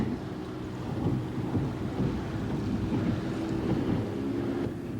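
Steady low engine drone of a boat on a long run, mixed with broad wind rush, continuous and fairly loud throughout with no talking.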